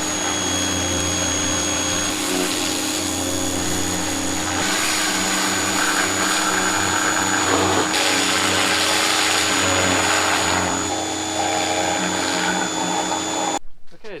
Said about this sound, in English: I'm gonna go push it out and hit it with the pressure washer